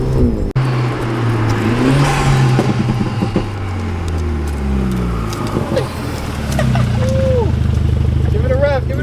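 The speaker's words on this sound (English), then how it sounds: "Give it a rev." A BMW F31 fitted with a CTS Turbo high-flow catted downpipe revs loudly nearby, its engine note climbing and falling through several throttle blips, with people talking around it.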